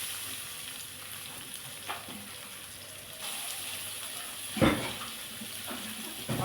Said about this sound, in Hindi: तो इसमें डाल देते हैं प्याज